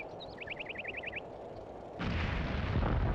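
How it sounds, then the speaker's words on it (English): Artillery fire in the Combat Mission: Beyond Overlord wargame at La Fiere, with a quick run of high chirping ticks first, then a sudden louder wash of distant booming and rumbling barrage. "the artillery is all around them"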